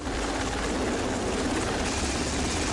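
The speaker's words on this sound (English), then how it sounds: "The helicopter is a significant addition to the combat capabilities of a modern destroyer." Steady, droning helicopter noise fills the clip, a constant broadband rumble with rotor churn, fairly distant and unchanging.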